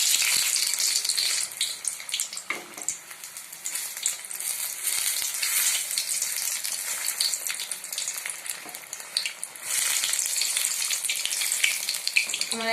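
Pabda fish frying in hot oil in a pan, a continuous bright sizzle and crackle with scattered pops and small spits, fairly close and steady over several seconds with no talking.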